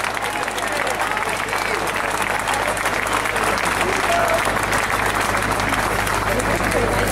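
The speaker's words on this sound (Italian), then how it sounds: "Un grande applauso al popolo siciliano." A large outdoor crowd claps and cheers steadily for the Sicilian people at a gathering of peoples in Vicenza, a dense, loud, continuous wash of applause with a low hum running underneath.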